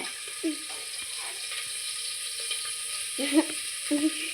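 Onions frying in a pan, a steady faint sizzle and hiss with a few short spoon scrapes and clatters, while a person talks briefly over it.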